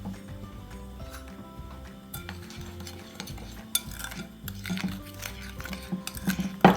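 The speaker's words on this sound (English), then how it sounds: "I'm going to go ahead and put the cornstarch in this bowl, and also the sugar. I'm going to give it a good mix." Cornstarch and sugar being stirred together in a bowl, with soft scraping and occasional clinks of a utensil against the bowl, moderately quiet and without speech.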